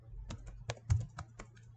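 Quick keystrokes from typing code on a computer keyboard, about ten separate clicks in an uneven rhythm, close by over a low steady hum.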